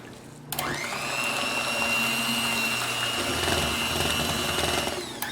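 An electric mixer beating eggs into fruit cake batter, starting abruptly after a brief pause and then whirring steadily at a high pitch, close and continuous, with no talking.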